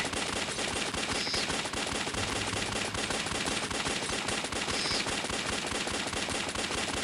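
Dense, continuous rapid gunfire in the mobile game Alien Shooter fills the whole stretch, a constant loud clatter of automatic weapons with no pauses.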